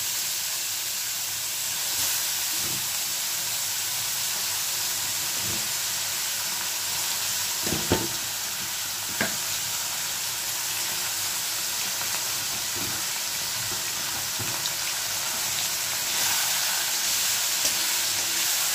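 Chicken going into hot oil with bay leaves in a pan, a constant hissing fry with a few soft knocks, steady and unbroken, no voices.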